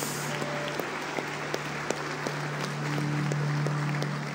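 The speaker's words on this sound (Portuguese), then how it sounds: "dê uma salva de palmas a Jesus" Scattered clapping from a church congregation at the end of a worship service, individual claps audible over a steady hum and low background tones.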